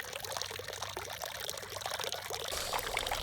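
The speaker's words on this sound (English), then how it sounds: "It's giving me these trickling water sounds that you can hear throughout the house" Water trickles and splashes steadily from a Japanese water fountain in a home garden, a continuous, close, even pouring stream with no voices.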